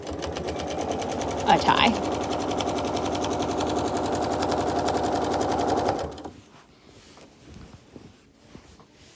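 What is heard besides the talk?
sewing machine quilting stitches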